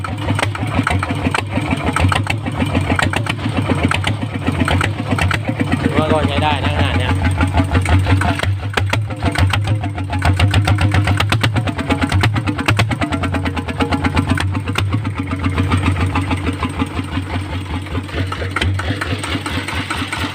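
A Thai RT110 small engine fitted with a locally made aftermarket exhaust pipe and a tuned pump, running steadily at a loud, close, rapid idle-like putter throughout, with people talking over it.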